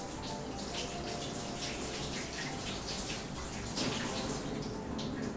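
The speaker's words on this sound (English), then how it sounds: "so just wash it and just give it a quick rinse" Tap water running steadily while a pineapple is rinsed at a sink, a continuous close splashing stream with irregular spatter as the fruit is turned under it, without talk.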